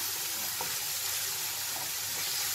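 Meat sizzling in a pot with tomato sauce while being stirred, a steady close hiss with a couple of faint scrapes, no talking.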